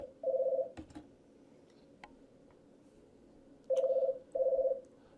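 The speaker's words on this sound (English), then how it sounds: "that's my phone ringing." A phone rings in short electronic bursts, one ring followed later by two more in quick succession, moderately loud over a quiet room.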